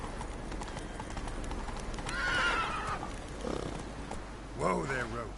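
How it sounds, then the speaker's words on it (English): Horse in the video game The Witcher 3 Wild Hunt, steady clip-clop of hooves under two separate whinnying neighs, heard fairly close at moderate level with faint background sound. "Whoa there, Roach"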